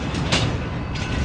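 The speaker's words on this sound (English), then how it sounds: "the train is getting ready to move again" A train at a station in Tupelo, Mississippi, getting ready to move gives off a steady broadband rumble and hiss, with two brief louder bursts of noise and no voices.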